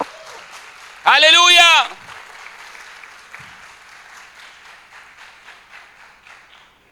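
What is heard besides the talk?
church congregation applause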